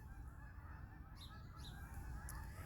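Geese honking outdoors, several faint distant honks over a low rumbling background.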